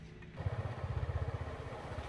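Motorbike engine running close by on a road journey, a rhythmic low putter that kicks in abruptly and keeps a steady pulsing beat for about two seconds.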